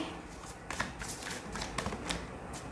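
Tarot cards are shuffled and drawn by hand, soft, quiet riffling with a few light taps in a short, close burst.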